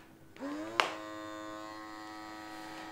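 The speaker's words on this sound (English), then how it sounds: "because it's making a suction, you don't actually have to hold it in place." A small vacuum pump draws air out of a reusable vacuum storage bag holding 3D printer filament, a steady close electric hum with a sharp click near the start, running on unchanged to the end.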